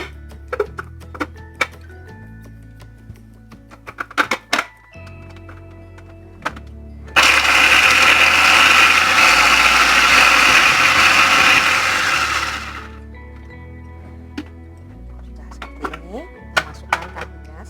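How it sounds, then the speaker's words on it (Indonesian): A loud blender whirs steadily for about five seconds while blending ingredients for Indonesian salted-egg tofu pepes, then stops abruptly, with faint clinks and handling noises before and after. "Tentunya kita blender dulu."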